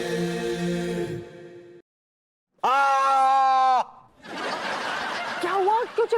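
A man screams in a Hindi sitcom scene about a ghost, letting out a loud, sustained, strained cry after a burst of laughter and a short pause, followed by rougher vocal noise.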